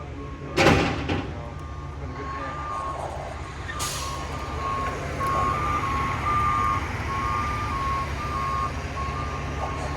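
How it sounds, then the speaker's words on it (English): Cement trucks at a house foundation concrete pour, with steady truck engine rumble, repeated reversing beeps, a sharp clank or two and a hiss of air brakes, heard from nearby on an outdoor job site. "we got 3 cement trucks here, 24 yards of concrete"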